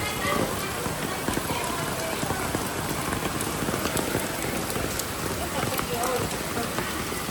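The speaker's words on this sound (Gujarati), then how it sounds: "અત્યારે વરસાદ છે ફૂલ" Heavy rain pours steadily, a dense hiss of drops pattering on surfaces close by, unbroken from start to finish.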